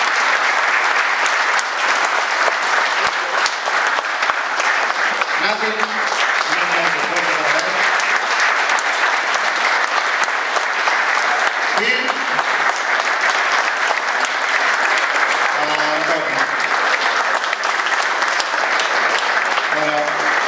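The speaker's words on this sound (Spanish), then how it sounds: "un aplauso fuerte para John." Loud, sustained audience applause fills the room for twenty seconds, steady dense clapping with a few faint voices and shouts mixed in.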